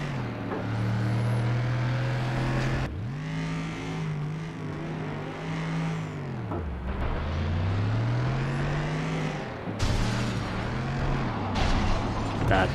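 Racing cars in the video game FlatOut 2, three laps around the Downtown street circuit at night: engine drones rise and fall steadily as gears shift, loud and close, with brief breaks where the revs drop and climb again.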